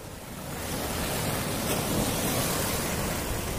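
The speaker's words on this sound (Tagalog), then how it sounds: "Lakas ng alon." Strong ocean waves crash and roar continuously at the Corniche in Jeddah, a loud, dense wash of surf with wind noise and no voices.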